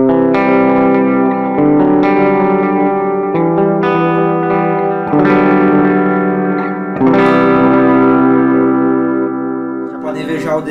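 Clean electric guitar through a Mooer GE200 multi-effects unit with chorus and delay, set for a worship tone: chords ring out in repeated strums with a shimmering, wide sustain, loud and alone.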